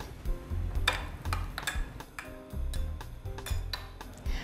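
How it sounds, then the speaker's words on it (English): A mojito being stirred in a glass, with a spoon clinking in an irregular series of sharp ticks and taps against the glass over a soft liquid swirl, close up and with no talking. "And I'm going to give this a good stir."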